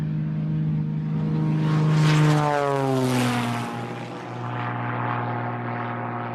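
Propeller airplane in cruise flight, a steady loud engine drone with a strong tonal hum that shifts pitch midway, heard alone without talk.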